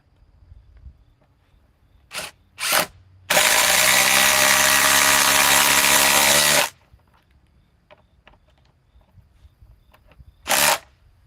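A Ryobi power tool gives two short blips, then runs at full speed in a loud, steady, high whine for about three seconds before cutting off, and one more brief burst follows; close and heard alone.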